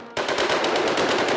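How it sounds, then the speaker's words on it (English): Rapid machine-gun fire at a WWII battle reenactment in Russia, a loud continuous burst of closely spaced shots that starts abruptly and runs without pause. "gunfire,"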